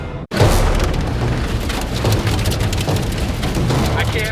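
Hail and rain pounding a car during a tornado-warned storm, a loud, relentless drumming of dense impacts on the roof and glass, close and continuous after a brief cut at the start.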